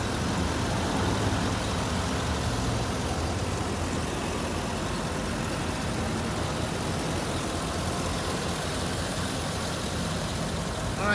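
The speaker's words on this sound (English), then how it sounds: "Vortex engine, as you can see, is running very smooth." A 2016 Chevy Silverado 2500 pickup with a 6-liter V8 Vortex engine idles smoothly with the hood up, an even, continuous low rumble heard up close with no speech over it.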